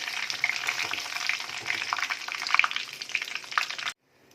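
Dried red chillies, cumin and bay leaves frying in hot oil, a bright crackling sizzle with popping spits, close and steady, cutting off abruptly near the end.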